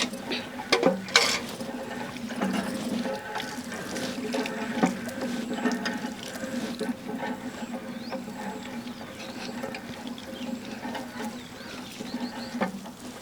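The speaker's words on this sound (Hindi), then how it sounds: "नल को चला दे तू पानी पी ले हम" A village hand pump is worked and water splashes out, starting with a few sharp clanks and gushes, then settling into a soft, continuous patter and trickle at close range.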